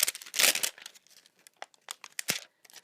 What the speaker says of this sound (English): We're going to peel it off here.